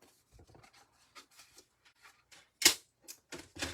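Scissors cutting through card stock while making a fun fold greeting card, heard as a few soft snips and rustles ending in a couple of sharper, louder cuts near the close, with no talking.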